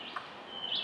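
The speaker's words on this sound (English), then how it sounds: "There it is. Yeah, there's a wood thrush." A wood thrush sings somewhere near a beehive in the open air, a short clear fluting phrase that is faint to moderate and heard alone without talk.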